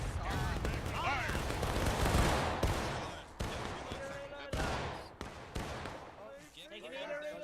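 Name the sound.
musket volley fired by soldiers in the video game War of Rights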